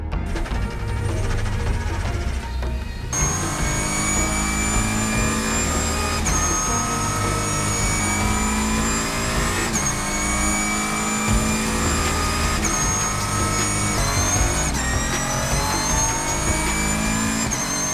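A Ligier JS2R race car runs at the Magny-Cours circuit during a four-hour semi-night race. The engine drones loud and steady from close range, probably from on board, with repeated shifts and revs rising through the gears.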